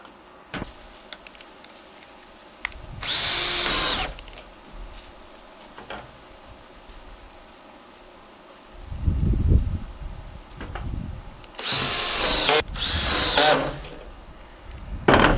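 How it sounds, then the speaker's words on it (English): Two short bursts of a cordless drill drive self-tapping washered screws into metal roof sheeting on a chicken coop shed. Each burst is loud and close, with a faint insect chirp in the background between them. "if you have a drill similar to this, to a specific setting that's not so tight that it won't completely flatten out the little washer that's on these self-tapping screws"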